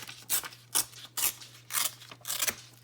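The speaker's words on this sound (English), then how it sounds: "I'm going to just tear this down" Paper being torn by hand into pieces for a grunge art folio craft project, heard as several short, close rips in an irregular rhythm with quiet gaps between them.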